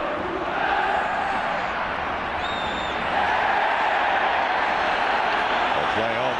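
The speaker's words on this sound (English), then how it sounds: "The home crowd aren't in agreement with that, that's for sure." A home football crowd at Atletico Madrid roars in protest at a referee decision, a broad, sustained stadium din of jeers and shouts with a commentator talking over it.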